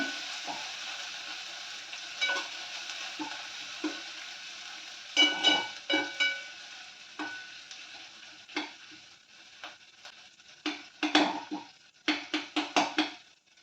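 Vegetables fry in a pan on a low flame while a spoon stirs them, giving a steady soft sizzle under repeated scraping and tapping strokes that come in short bursts, close by, with no voices.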